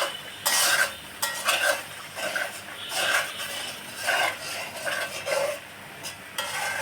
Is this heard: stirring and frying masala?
yes